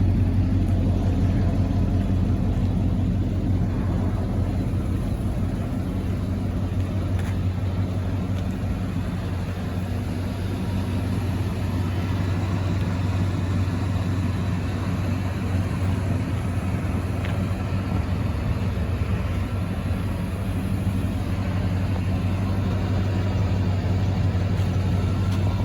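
A 1987 Chevrolet Silverado C-10 pickup with dual exhaust idles steadily, a constant low rumble with an even hum and no change in pace for the whole stretch.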